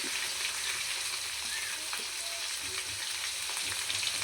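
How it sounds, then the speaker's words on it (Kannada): Onion sizzling in a pan with curry leaves and green chillies, a steady bright crackle of hot oil with faint stirring, close and continuous with no talking. "ಈಗ ಹಾಕಿ ಫ್ರೈ ಮಾಡ್ತಿ"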